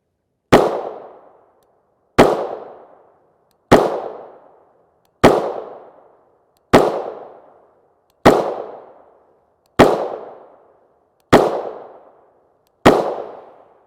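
Nine gunshots fire 5.7x28mm 30-grain JHP SS200 rounds at an even, unhurried pace. Each sharp, loud crack is followed by a decaying echo, with no talking between shots.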